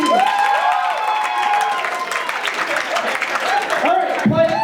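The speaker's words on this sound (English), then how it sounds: "Clap your hands really loud if you believe it." A school Halloween show audience claps and cheers loudly and steadily for several seconds, a dense crowd wash with excited voices and whoops rising over it near the end.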